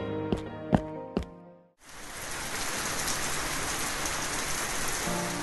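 Heavy rain pours in an animated cartoon story: after a few brief tonal hits, a dense, steady wash of rainfall takes over and continues loudly and evenly to the end.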